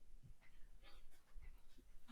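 A dog entering a room pants softly with quick, faint breaths and small whimpers close to an indoor microphone, with no talk over it.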